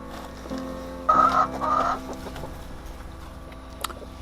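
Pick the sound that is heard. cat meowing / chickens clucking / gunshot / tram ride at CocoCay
chickens clucking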